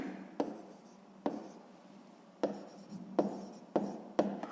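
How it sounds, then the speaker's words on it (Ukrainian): Pen on paper writing out a handwritten maths equation: close scratchy strokes arriving in short bursts, each opening with a sharp tap and trailing off, about six bursts with quiet gaps between them. "то записуємо рівняння"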